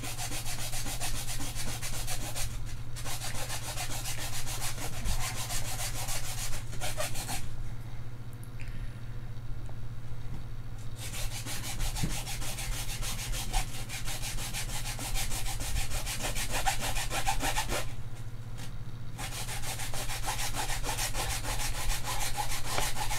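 A small hand saw rasps through the casing of an activated carbon water filter in a continuous run of close, gritty strokes, broken by a couple of short pauses.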